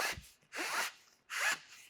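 Zip on the rear wall of a Stockman Rover Ultra awning pulled in three quick, close rasping strokes, each a short fabric-zipper burst with brief pauses between.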